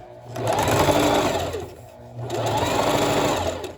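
A sewing machine backstitching over the same seam on a one-piece garment runs loud and close in two sustained bursts, with a short pause between them.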